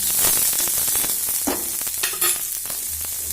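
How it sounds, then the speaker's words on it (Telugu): Chopped onion, green chili and coriander stirred into a wheat rava batter in a pan, a dense, steady sizzle with scraping stirs throughout, close and fairly loud. "ఉల్లిపాయ పచ్చిమిర్చి కొత్తిమీర కరివేపాకు సారీ ఇవైతే వేసేసుకొని మంచిగా కలిపేసుకోవాలి"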